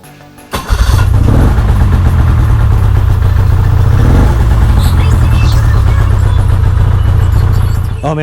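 An ATV engine with a repaired choke cranks and catches after sitting idle, then settles into a loud, steady, throbbing idle close by that runs for several seconds.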